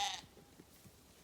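A sheep gives one short bleat at the very start, close by, then only faint low rustling of the flock at a winter feeding follows.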